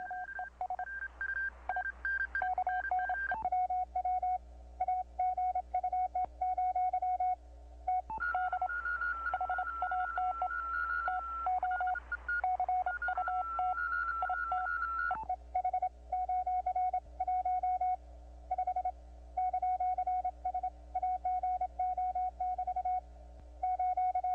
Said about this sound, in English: this is just a short demonstration of the spectacular capabilities of the EDSP in the CW mode on the FT1000MP